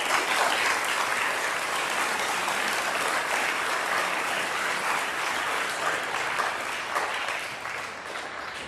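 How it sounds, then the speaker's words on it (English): Sustained, loud applause from a high school Veterans Day assembly honoring veterans, a dense steady roar of clapping that tapers slightly near the end. "I'd like to start by giving them all a round of applause from us."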